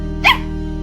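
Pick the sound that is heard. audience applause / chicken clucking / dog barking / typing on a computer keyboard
dog barking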